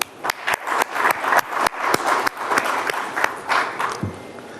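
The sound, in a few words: audience applause at conclave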